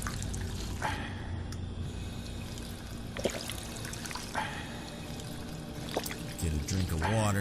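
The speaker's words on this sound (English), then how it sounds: "Get a drink of water, try to bring the health up a little bit." Drinking water in the video game Fallout 4 produces a pouring, trickling liquid sound with gulping noises, set against steady game background hum and occasional short impacts, all at a low level.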